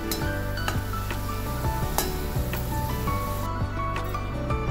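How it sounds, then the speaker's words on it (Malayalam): Chopped ginger fries in hot oil in a pan for a Kerala inji curry, giving a steady, dense sizzle with occasional light clinks of a utensil stirring against the metal. "നമ്മുടെ ഇഞ്ചിയൊക്കെ നല്ലോണം മൂത്തിട്ടുണ്ട്, കണ്ടില്ലേ, നല്ല ബ്രൗൺ കളറായി."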